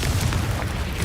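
A Bombarda blasting spell explodes in Hogwarts Legacy: one heavy, rumbling boom with a thick low end that keeps roaring without pause through the brief moment.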